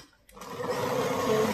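A sewing machine stitching fabric for a turban cap starts up after a brief pause and runs as a steady, close mechanical whir for about a second.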